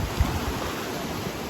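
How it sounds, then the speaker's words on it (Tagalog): Strong sea waves at a swimming spot make a steady, loud, broadband roar mixed with wind noise, with one brief surge near the start. "Kaya lang, lakas ng alon."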